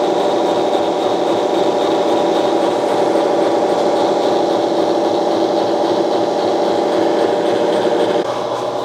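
Stainless steel winch bracket for an airboat being machined, giving a steady, loud, continuous grinding rasp with a constant tone that drops slightly near the end, with no talking.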